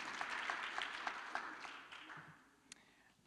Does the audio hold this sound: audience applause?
yes